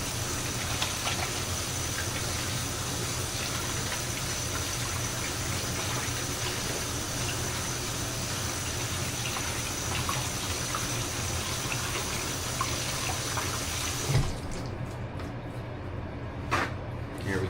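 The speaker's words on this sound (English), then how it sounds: "Rinse off my hands." Hands rinsed under a running kitchen tap while cooking dinner: a steady, close rush of water pouring into a sink for about fourteen seconds, then cutting off to quiet with a couple of faint clicks.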